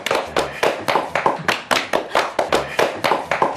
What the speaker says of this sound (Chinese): 对呀，鼓掌庆祝一下，快呀！